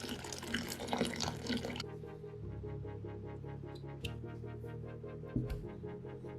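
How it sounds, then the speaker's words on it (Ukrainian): Boiling water poured into a bowl holding a whole pumpkin, a steady splashing pour with light dripping that continues evenly throughout. "Кладемо його у миску, заливаємо кип'ятком та залишаємо так на кілька хвилин."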